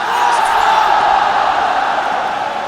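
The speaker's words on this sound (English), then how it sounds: "Have a listen to this crowd." Arena crowd at the 2009 WCG Grand Final Counter-Strike match between wNv.Cn and an opponent, a loud, steady roar of cheering and shouting that fills the whole moment without pause.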